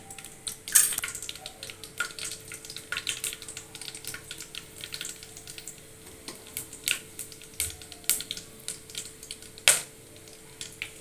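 Cinnamon, cloves, fennel seeds and cumin crackle and sizzle faintly in hot oil, with scattered sharp pops and occasional clinks of a utensil against the pan.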